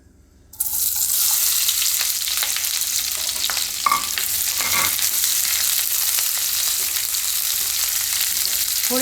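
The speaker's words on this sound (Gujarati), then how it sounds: "તેલ આપણું ગરમ થઈ ગયું છે તો એમાં આપણે આ બધી ડુંગળી નાખી દેવું" Chopped onions dropped into hot oil for a Gujarati onion-tomato gravy curry burst into a loud, steady sizzle that starts abruptly and holds, with brief stirring clatters partway through and no talk.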